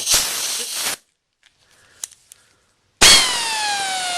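Harsh bursts of hissing air from a hose being coupled to a Central Pneumatic impact wrench, a loud blast then near-silence with a sharp metallic clang and small clicks, followed by another strong hiss with ringing tones.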